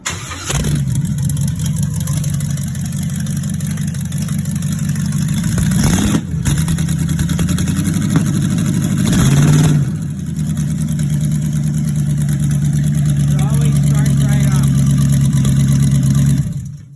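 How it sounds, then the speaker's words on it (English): A 1956 Willys Jeep's LS-swapped V8 cranks and starts cold, settling into a loud, rumbling idle with a brief rev partway through, close up and continuous. "So let's do a cold start."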